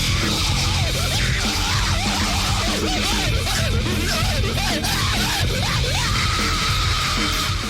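A singer's voice yelps in rapid wavering screeches that mimic turntable scratches, layered over loud, dense distorted music on a film-soundtrack genre mash-up.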